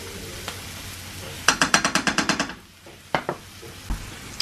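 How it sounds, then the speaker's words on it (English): Onions fry in oil in a pan for balti chicken, a low sizzle running beneath a quick burst of rhythmic utensil scrapes and clacks, then a few scattered knocks, close and without talk. "let your onions fry for about, I think 3 to 4 minutes, just until they're, you know, slightly golden"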